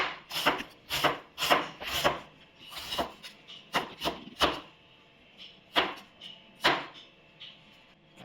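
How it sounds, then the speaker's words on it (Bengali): Onions being chopped with a knife for Kolkata-style biryani make a series of close, crisp, irregular strikes and scraping cuts, with short pauses between bursts. "আমি সব পেঁয়াজগুলো কেটে নিই"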